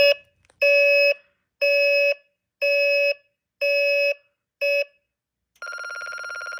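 Radionics D8112 alarm keypad on a demo board sounding its entry-delay warning: six loud, evenly spaced electronic beeps, then a continuous steady tone, heard up close with no talking.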